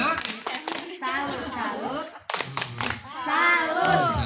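A group claps in short patterned bursts of a chant-and-clap cheer, with voices chanting and talking between the rounds of clapping.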